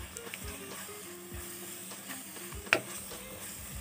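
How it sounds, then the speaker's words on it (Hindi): Spice mixture with Kashmiri red chili powder sizzling in a pan for chicken curry, a soft steady crackle broken by a few scraping stirs and one sharp clink of a spoon against the pan. "इसे हम अच्छे से 3 से 4 मिनट तक लगातार फ्राई करेंगे"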